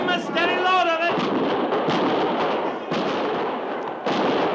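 Gunfire in an old radio drama as a camp comes under fire, a rapid series of sharp bangs and crackling bursts layered over shouting voices, with a brief vocal cry at the start.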